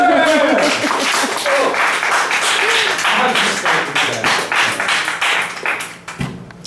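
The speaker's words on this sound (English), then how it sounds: "I was about to thank you for not applauding, but you applauded anyways." Audience applause in a small cafe at an open-mic collaboration night, a dense patter of many hands clapping that fades and thins toward the end, with a voice speaking over the start.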